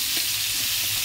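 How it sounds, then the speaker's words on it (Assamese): Bitter gourd fries in hot oil, giving a brief, steady sizzling hiss that stays close and even from start to finish, with no voices. "তিতা কৰলা ভাজি আছোঁ"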